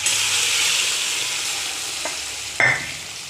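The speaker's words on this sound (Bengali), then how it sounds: "মটরশুঁটিটা সামান্য নাড়াচাড়া করে নিয়ে যে আলুটা সিদ্ধ করে রেখেছি, আলুটা দিয়ে দেব।" Boiled potato goes into peas frying in ghee, giving a soft continuous sizzle with a few scraping stirs and a brief louder clatter near the end, fairly quiet overall.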